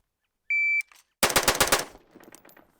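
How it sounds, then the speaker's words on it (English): A rifle fitted with a Hiperfire EDT trigger fires a quick string of several sharp, loud gunshots in rapid succession outdoors, preceded by a short electronic beep and followed by fading echoes. "5-shot group in the head."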